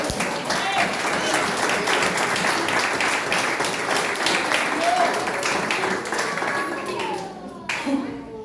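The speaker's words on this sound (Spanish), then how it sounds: "Denle un aplauso al Señor." A church congregation breaks into sustained clapping during a sermon on grace, with many hands applauding steadily while voices call out over it, the applause thinning toward the end.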